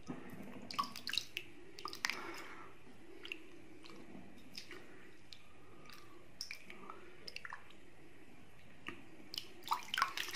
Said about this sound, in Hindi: 10 मिनट बाद फ्रेंड्स आपने अपने हाथों को इस तरह सादा पानी से धो लेना है।